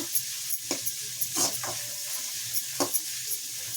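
Onions and tomatoes frying in a pan, with a steady bright sizzle and occasional scrapes of a spoon stirring through, close and continuous with no voices.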